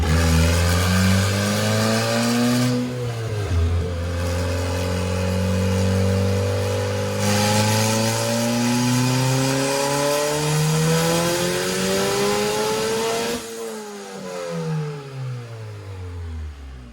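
A Honda K-series engine swapped into a turbocharged Porsche 911 revs hard on a dyno, climbing loudly and steadily in pitch through several pulls. It hits the boost cut and drops off sharply near the end, loud and close.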